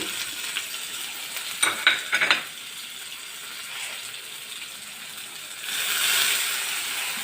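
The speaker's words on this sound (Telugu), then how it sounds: "చూడండి, ఆవాలు పేలుతున్నాయి కదా" Mustard and cumin seeds pop in hot oil for a raw mango and coconut chutney tempering. A handful of sharp crackling pops comes early, then a steady soft sizzle swells louder near the end. No one speaks.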